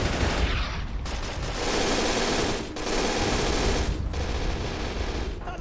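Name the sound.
machine gun firing in Men of War: Assault Squad video game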